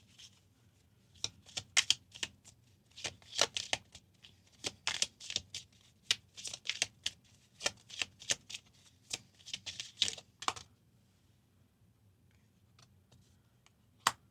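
Tarot cards are shuffled and drawn for a reading: a quick run of crisp riffling and snapping bursts, close and fairly soft, that lasts about ten seconds before falling quiet.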